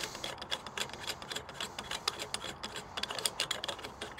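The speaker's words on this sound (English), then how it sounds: "It just unscrews from the barrel nut" An aluminum AR-pistol free-float handguard being unscrewed by hand from the barrel nut on a workbench, giving quiet, rapid irregular clicks and scrapes of metal threads, close and continuous with no talk.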